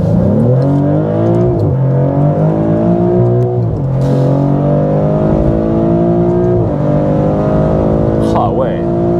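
A Maserati GranTurismo Trofeo engine revs hard through rising pitch sweeps, with several gear changes breaking the climb. The engine stays loud and close throughout, with voices talking over it.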